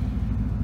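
Car engine idling after sitting for about ten minutes, a steady low rumble with no change in pitch, close by and alone.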